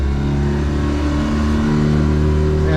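A 2021 Hewcraft Sportsman 180 boat's engine runs with a loud, steady, close droning hum that holds evenly throughout, with no voices over it.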